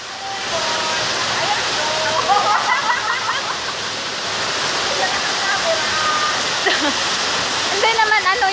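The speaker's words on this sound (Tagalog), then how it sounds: "We are here in Taitam Falls." Tai Tam waterfall pours in a loud, steady rush of falling water from start to finish, with people chatting and calling out over the roar.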